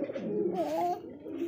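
A male Aroben Koka pigeon coos close by in a single throaty, rolling call that rises and falls over about a second and a half, with no other sound competing.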